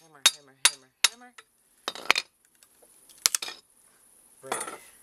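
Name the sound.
hammering a crowbar under pallet wood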